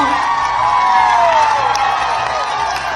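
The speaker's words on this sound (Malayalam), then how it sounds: "തീരുമാനത്തെ കയ്യടിയോടെയാണ് സെക്രട്ടേറിയറ്റിന് മുന്നിൽ ഉപരോധം നടത്തുന്ന ആശമാർ സ്വീകരിച്ചത്" ASHA workers protesting in front of the Secretariat break into loud, continuous clapping and cheering, a dense crowd roar that holds steady throughout with scattered whoops.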